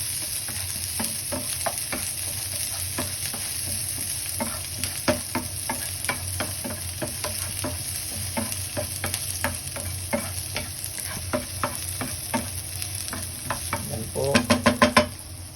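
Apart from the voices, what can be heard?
food frying in a pan until golden brown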